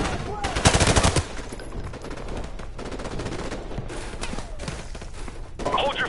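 Sustained gunfire from Call of Duty Modern Warfare 2 on PS4: dense bursts of rapid machine-gun shots, loud and near, with distant rounds and voices mixed through the fight.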